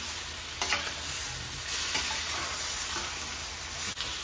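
Chicken hits the hot pot for sinigang with ginger, sending up a loud, steady sizzle and hiss close by, broken by a few clinks and scrapes of stirring.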